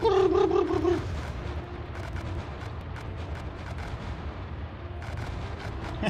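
Gunfire and explosions while shooting nomads in a video game about aliens attacking Colorado: a loud burst at the start, then a run of rapid repeated shots and booms over a low rumbling bed.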